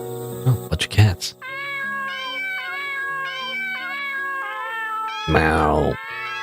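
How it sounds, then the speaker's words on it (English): Several meows rise over game music with a layered melody, after a few sharp thumps at the start and a burst of noise near the end. "Oh, bunch of cats."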